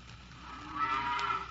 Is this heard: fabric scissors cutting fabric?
no